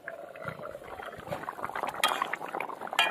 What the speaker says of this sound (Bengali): মাছ দিয়ে আর 2 মিনিট মতো ফুটিয়ে নিলেই কিন্তু হয়ে যাবে আমাদের একদম ভোলা মাছের কালিয়া